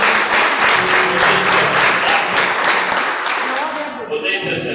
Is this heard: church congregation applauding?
yes